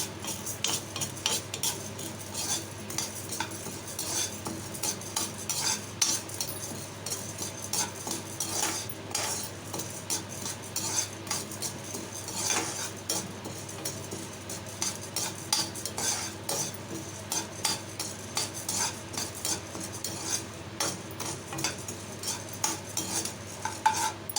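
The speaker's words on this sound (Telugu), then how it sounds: "మినపప్పు అలా కందిపప్పు ఇవి కూడా కాస్త గోల్డెన్ కలర్లో వచ్చే విధంగా ఫ్రై చేసుకోవాలి" Urad dal and toor dal frying in a pan until golden give a continuous soft sizzle under repeated scraping and clinking of a metal spoon as the lentils are stirred.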